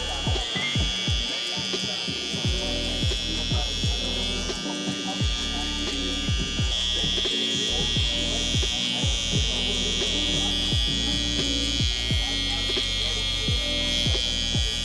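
Electric hair clipper buzzing steadily and close while cutting a neck taper on curly hair, a constant loud hum with a soft undertone of voice.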